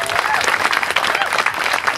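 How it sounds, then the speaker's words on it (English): An audience claps steadily for volunteer shift leaders at a psychedelic harm reduction training session, a dense, even patter of applause filling the room throughout. "I'd also like a round of applause for these leaders"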